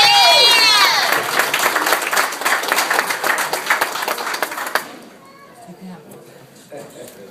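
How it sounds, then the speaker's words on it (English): Wedding guests give the groomsmen a round of applause: dense clapping and cheering fill the room for several seconds, then fade to quiet with scattered voices. "round of applause to those guys"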